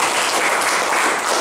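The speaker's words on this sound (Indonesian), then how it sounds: "Tepuk tangan." Applause from a seated audience at a business seminar, a dense and steady wash of clapping that holds even throughout.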